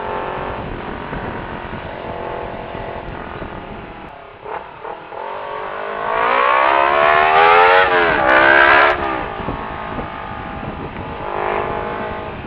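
A Honda CBR250RR sport motorcycle engine revs loudly and close by, climbing in pitch, dropping back, then surging again through repeated throttle blips.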